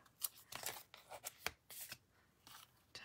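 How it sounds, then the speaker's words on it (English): Tape torn from a roll to wrap the end of linen thread, a series of short, quiet crackling rips and scratchy pulls in irregular bursts, close up with no talk. "I'm going to add just a touch of tape to the end"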